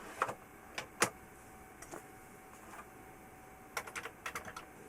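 A Commodore 16 disk drive loading a disc gives off a few sharp clicks and clunks early on. After a quiet stretch comes a cluster of rapid mechanical ticks and seeks, all faint over a low steady hum.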